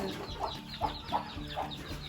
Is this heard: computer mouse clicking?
no